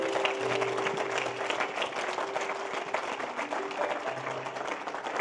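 A live audience claps steadily and fairly loudly for several seconds, with a faint murmur of voices running underneath.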